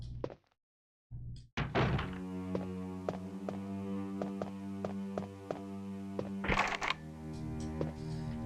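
A locked door being tried in the Resident Evil video game: a short knock, a brief silence, then a solid thunk and rattle of the handle over a steady, droning musical background.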